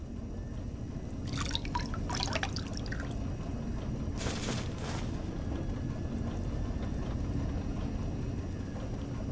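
Water dripping from a faucet in Fallout New Vegas, a few soft splashy drips clustered early and midway, heard over a steady low ambient hum with no voices.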